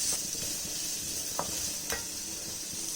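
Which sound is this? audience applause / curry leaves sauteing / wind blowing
curry leaves sauteing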